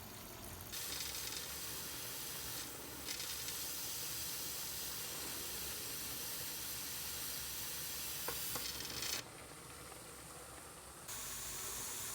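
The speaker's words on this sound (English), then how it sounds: "Now we are going to go ahead and let it steam for 10 minutes before we put our pressure gauge on." A pressure canner full of carrots vents steam in a loud, continuous hiss that holds steady for the whole stretch, with a few brief shifts in intensity near the end.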